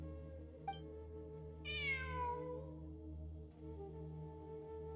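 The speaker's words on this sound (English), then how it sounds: "There's cats. I'm not hearing things. It really is a cat." A single cat meows once in a video game on a moonlit night, a clear falling cry over a steady low ambient drone with a brief click just before it.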